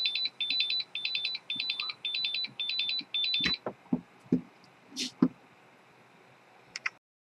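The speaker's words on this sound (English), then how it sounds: "Yeah, we have an alarm." A LOSI RC battery charger for a 1/24 micro short course truck sounds its alarm: a rapid train of seven bright, evenly spaced beep bursts, close and loud, followed by a few clicks and handling knocks.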